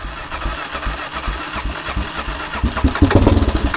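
An ATV or dirt bike engine cranks with the choke on, a loud, close, rhythmic churning that stutters and then catches into uneven firing pulses near the end.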